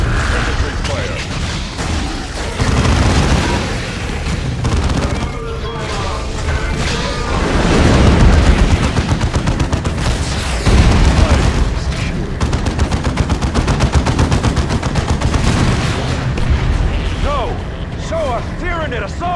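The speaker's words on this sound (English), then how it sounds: "The Tyranids are attacking! Infantry fire!" Dense infantry gunfire from the video game Dawn of War 2 Chaos Rising during a Tyranid attack: loud, continuous rattling bursts and booms layered over a battle din, with voices speaking throughout.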